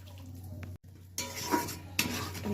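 Spice paste of cumin, coriander, poppy seed, cashew and melon seeds is stirred in oil in a pan for katla fish rezala: a low hum, then spoon scrapes and a few light clinks against the pan.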